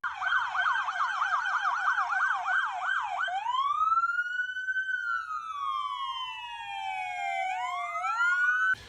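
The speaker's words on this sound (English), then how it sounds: "all kinds of sirens and horns beeping" Wailing police sirens rise and fall loudly, first in a rapid yelp pattern then slow sweeping wails, with several sirens overlapping; no distinct horn beeps stand out.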